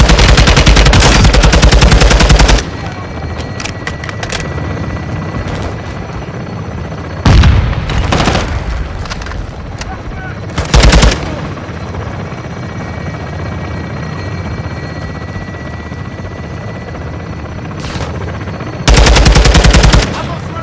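Helicopter gun run in the Call of Duty game Modern Warfare II, with loud bursts of machine gun fire near the start, in the middle and at the end over a steady rotor drone.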